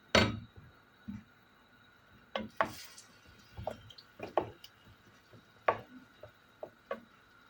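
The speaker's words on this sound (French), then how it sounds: "La courgette coupée en morceaux." A courgette being chopped into pieces with a knife on a cutting board, a series of sharp, irregularly spaced close chops and taps with quiet gaps between them.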